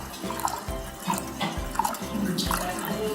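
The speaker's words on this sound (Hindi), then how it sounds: "ये दही में हम पानी मिला रहे हैं," Water is poured and mixed into yogurt (dahi) in a kitchen while a batter is made for Delhi-style dahi phulki. Soft splashing and sloshing pulses repeat in an uneven rhythm, close by.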